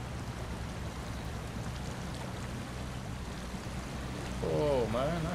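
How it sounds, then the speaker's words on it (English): Waterfall in the SnowRunner video game, a steady broad rush of falling water running throughout at moderate level, with a tonal game or engine sound swelling in near the end. "Oh man, nice. The waterfall."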